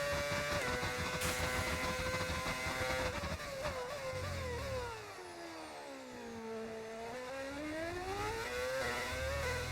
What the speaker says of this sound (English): Why put a V8 sound mod?